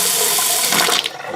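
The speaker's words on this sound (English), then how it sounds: "I'm going to turn on the hot and see if it works." A bathroom sink faucet runs hot water in a steady, loud rush close by. The flow shifts and then stops abruptly near the end.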